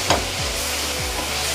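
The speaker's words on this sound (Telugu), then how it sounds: "ఈ గోల్డ్ కలర్ వచ్చే వరకు వేయించాలండి" Onion pieces frying in a pan for chicken curry, a loud steady sizzle with a few sharp scrapes of a stirring spoon at irregular intervals.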